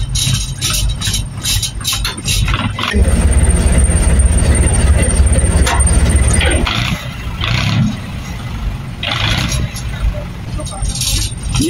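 A lifeboat's engine runs with a loud, steady low rumble that swells to a heavier drone midway, while crew members talk and call out over the noise.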